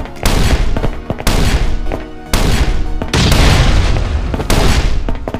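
A shotgun trap in the survival video game Last Day Rules Survival fires off a rapid series of heavy booming blasts, about six loud shots in irregular succession with brief gaps between them.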